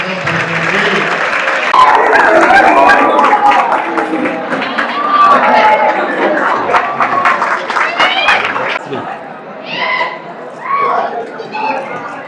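Audience applause and crowd noise welcoming two guests at a stage event, dense clapping and chatter sustained throughout, with some children's voices and cheering over the crowd.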